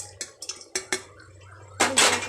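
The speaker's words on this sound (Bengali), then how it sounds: "এতে ডাঁটাগুলো দিয়ে দেবো, সজনের ডাঁটাগুলো। সবজিগুলো সব দিয়ে দেবো।" Drumstick pieces and other vegetables for Bengali sukto go into a metal cooking pot, giving several sharp clinks and knocks a moment apart, then a louder scraping rush of vegetables sliding in. No one speaks.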